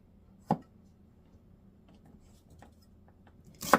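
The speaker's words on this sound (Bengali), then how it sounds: "খোসা ছাড়াই নিছি রসুনের মাথাগুলো কেটে নিলাম" Knife cutting peeled garlic heads on a board while making Korean cucumber kimchi, two sharp isolated chops near the start and end with quiet pauses and faint handling between.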